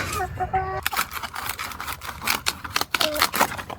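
Chickens cluck nearby in a cabbage garden amid clattering and tapping noises, with a few brief louder calls standing out from the busy scratching background.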